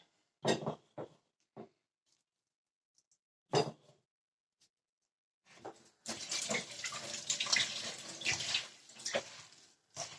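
Water is poured into a pot of grape-leaf dolma stuffed with meat and rice in a village kitchen. A few sharp clinks and knocks come first, then a steady, close splashing pour runs for several seconds.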